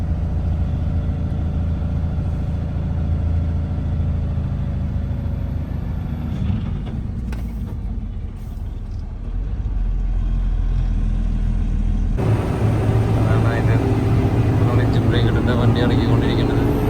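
A loaded goods truck drives through dense forest on its way to Kozhikode, its heavy engine rumbling loudly and continuously, dipping briefly then rising to a harder, higher-revving drone near the end.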